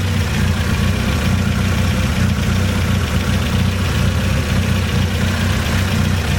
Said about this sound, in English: So right now the engine running really nicely.